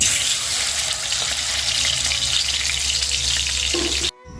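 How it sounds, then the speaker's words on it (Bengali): Fish fries in hot oil in a home kitchen with a steady, close sizzle and bubbling hiss that runs on evenly before cutting off abruptly near the end. "এখন মাছটা ভেজে নিই এই মাছগুলো খুব ফুটে"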